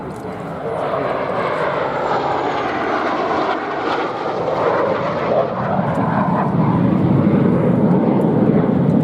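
A Jet Provost jet trainer flies a display at the Duxford airshow, its engine giving a loud, steady roar that swells slightly as it passes, with a voice faintly audible beneath.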